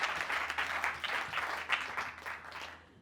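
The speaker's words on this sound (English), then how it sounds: "Now you can applaud for her." An audience at a talk on voice and communication applauds a volunteer, with a full, steady round of clapping that fades out toward the end.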